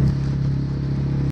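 A small dinghy outboard motor running steadily through the Venice canals, a close, continuous droning hum with no change in pitch.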